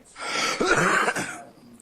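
A single throaty cough in a courtroom, close and fairly loud, lasting over a second with a rough, clearing quality.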